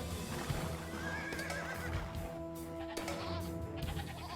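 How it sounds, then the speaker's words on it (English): Goats bleat in Age of Empires II, a few short wavering calls over busy game ambience that also carries horse whinnies and clip-clopping hooves. "Goats."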